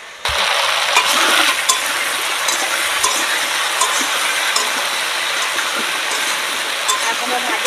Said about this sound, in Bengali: গাটি কচু আর আলু কিন্তু ভালো করে লাল করে না ভাজলে ভালো লাগবে না খেতে